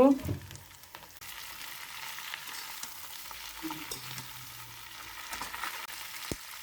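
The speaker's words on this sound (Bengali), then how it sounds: "রসুন, মরিচ, এখন করলাগুলো দিয়ে দেব।" Bitter gourd slices sizzle in a pan with garlic and chili, a steady close frying hiss with occasional stirring scrapes.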